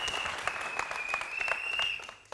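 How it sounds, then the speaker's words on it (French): An audience claps on a lively television talk show, with scattered, distinct hand claps over a steady high tone, fairly close and moderately loud, tapering off at the end. "Ça s'applaudit."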